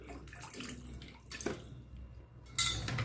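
Grapes washed in turmeric and salt water are tipped into a bowl of vinegar water, quiet close sloshing and dripping that ends in a sharper splash.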